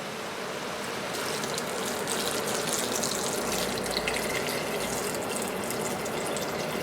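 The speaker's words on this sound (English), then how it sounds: "now I'm going to add 2 quarts of vegetable broth" Vegetable broth pours steadily from a container into an Instant Pot for potato leek soup, a continuous close splashing gush lasting several seconds with a slight swell partway through, no voices.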